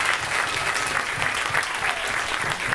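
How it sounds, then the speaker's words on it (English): Steady applause from an audience at a TV cast Q&A event, dense clapping that holds at an even level throughout. "let's give a big round of applause for them"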